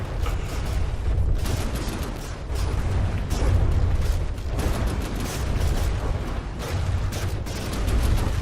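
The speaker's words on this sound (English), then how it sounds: "Yes! It's a cram Gatling gun." Cram Gatling gun from the game From the Depths firing in a steady, dense barrage of heavy booming shots, loud and continuous with rumbling low end throughout.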